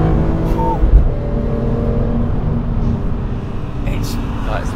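A BMW M car engine rumbles and revs continuously at close range, with people talking over it throughout.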